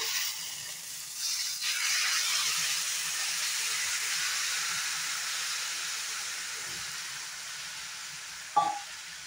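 Hot water goes into a pan of frying potatoes and radish, swelling into a steady, close steamy sizzle and hiss that holds evenly, with a brief clunk near the end.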